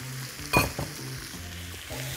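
Onion and celery frying in a pan give a steady low sizzle, with a brief stirring scrape near the start and another soft clatter shortly after, no voices present.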